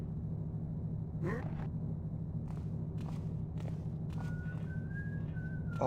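In the stealth game Thief: The Dark Project, a guard whistles a faint, wavering tune nearby over a low ambient rumble, with scattered soft footsteps and thumps and a gasp-like breath.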